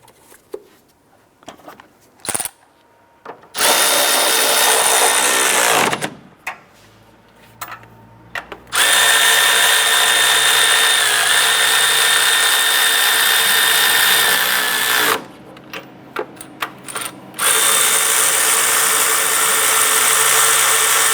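Power tool running in long, loud sustained bursts while tightening nuts on a 2001-2005 Honda Civic during a crankshaft seal replacement, with brief clicks and pauses between runs; no talk.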